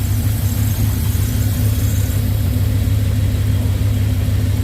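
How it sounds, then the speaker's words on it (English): A car engine idles steadily with a PCV valve squeak, a constant close, loud mechanical hum and rumble with a faint high-pitched whine on top, no voices. "PCV squeak."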